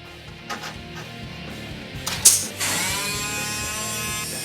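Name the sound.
flanging tool crimping sheet metal panel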